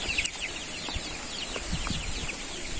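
Scattered soft clucks from chickens over a steady windy hiss, a few short calls spaced irregularly, fairly close but not loud.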